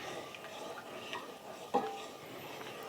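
Quiet spoon-stirring of a thickening sauce in a hot cast iron pan, soft scraping and clinks with one sharper knock near the middle, against faint background hiss.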